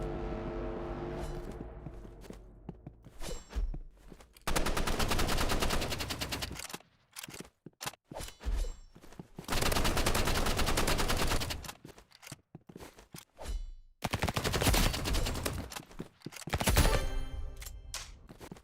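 Rapid automatic gunfire from a first-person shooter duel, bursts of sustained rattling shots broken by short pauses for reloading, loud and close with no voices.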